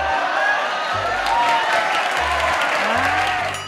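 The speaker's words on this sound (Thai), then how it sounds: "ปรบมือทุกคนปรบมือ" Applause and light cheering from a school audience at a Bangkok Christian college event, a continuous moderate clapping wash with some whoops and chatter mixed in.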